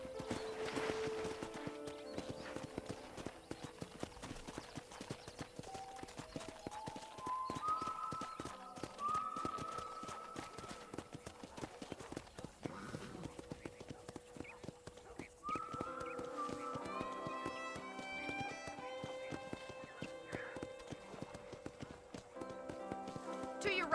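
Horse hooves clip-clop steadily in Red Dead Redemption, a running patter of taps beneath game music and characters talking, moderately close and continuous.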